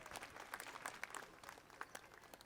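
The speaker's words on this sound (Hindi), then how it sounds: "अगर आपको अच्छा लगे तो जोरदार तालियों से इनका आभार" Audience applause at a school annual function, many hands clapping in a dense, steady wash with a few louder claps standing out, fairly faint and distant throughout.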